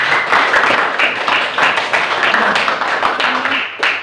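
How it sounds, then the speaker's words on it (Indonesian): Students being applauded in a classroom session, a loud burst of many hands clapping close by, dense and continuous for about four seconds before tapering. "Tepuk tangan buat kalian semua."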